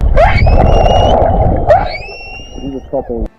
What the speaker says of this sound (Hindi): जान बच जाने के बाद 2 व्हेल्स गाना गाने लगी, और वो भी खुशी में